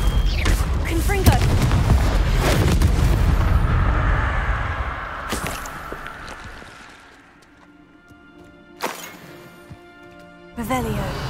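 Confringo blasting spell explosions in Hogwarts Legacy on PS5 bring booming, crackling blasts with a long rumbling decay, then sharper cracks and a final whooshing impact, with a voice calling out over the start.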